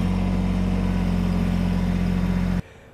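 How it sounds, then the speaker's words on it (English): Small diesel engine of a Kubota BX-80 series compact tractor idling nearby with a steady low rumble, running evenly before it cuts out abruptly. "I can start my tractor up and back away"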